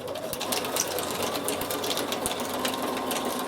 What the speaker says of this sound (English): I can make that honeycomb stitch really wide on this machine